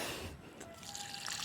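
Water is poured onto a bitter gourd plant mulched with humus, making a brief, soft trickle and splash close by.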